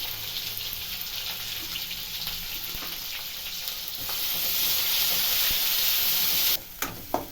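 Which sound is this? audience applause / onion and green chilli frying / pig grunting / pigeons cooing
onion and green chilli frying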